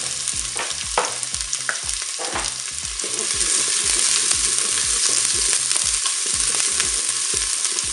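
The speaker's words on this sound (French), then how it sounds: "l'huile est chaude, enfin, le préchauffage est terminé. On va mettre les oignons." Onions sizzle and fry in hot oil in a preheated Cookeo multicooker, a steady crackling hiss broken by repeated scraping stirs that come in a regular rhythm, growing slightly louder midway.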